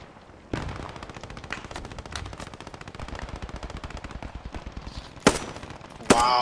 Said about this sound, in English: my own guys are shooting at me.